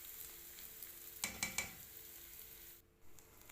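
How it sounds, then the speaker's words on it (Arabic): Onions sauté in a spoonful of ghee in a pan with a soft, quiet sizzle. Three quick clinks of a spoon against the pan come in a row, and then a brief pause near the end. "وأحط عليهم معلقة كبيرة من السمنة البلدي، وأشوحهم كده فيها"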